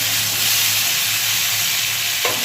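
Potato and okra sizzle in hot oil tempered with black cumin in a pan, a steady close frying hiss with no talking and a small clink near the end.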